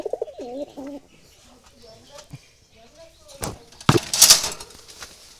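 Wild Jalali pigeons give a soft, rolling coo close by at the start, followed by quieter calls, a few sharp knocks and a burst of rustling noise.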